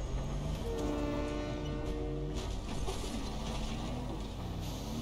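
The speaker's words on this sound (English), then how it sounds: "Hey, yo, bro, that train's coming." A Fortnite train rolling past with a loud sustained horn blast, heavy rumbling wheels and rail clatter filling the scene close by, with no talking over it.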